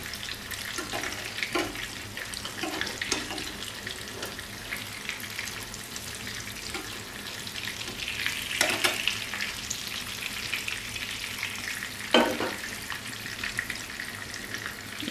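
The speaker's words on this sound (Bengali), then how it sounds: "আরেকটা পিঠ এভাবেই ধিমে আঁচে ভেজে নেব আমি।" Hilsa fish fries slowly in a pan over low heat, a steady crackling sizzle running throughout with a few louder pops and stirring scrapes, close and moderately loud.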